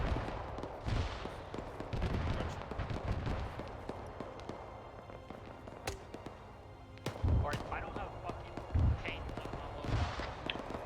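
Bursts of heavy autocannon fire in a military video game, a 23 mm gun, thump at a distance in short clusters. Players talk over the shooting throughout.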